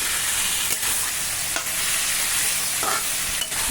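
Spices and vegetables cooking in hot oil with salt, turmeric, coriander and cumin powder, a loud continuous close sizzle with occasional stirring scrapes and knocks, no voices.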